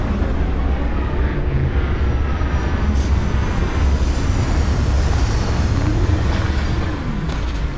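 Spacecraft engine roaring steadily during a landing in the video game Starfield, a loud, continuous low rumble with airy hiss that holds level throughout and eases slightly near the end.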